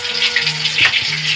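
Tofu sizzles in hot oil with a steady, close frying hiss and a few soft stirring knocks.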